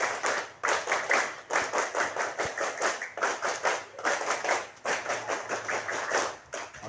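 Scout group doing the tepuk pramuka, a chant-free rhythmic group clapping pattern, crisp and close, with sharp synchronized claps in repeated bursts and brief pauses between phrases.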